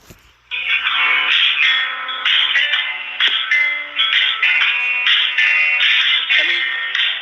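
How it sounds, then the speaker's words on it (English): Telephone hold music played back from a phone recording: a steady, tinny band-limited melody that runs continuously and loudly after a brief start, with no talking over it. "his phone, which had a recording of the hold music"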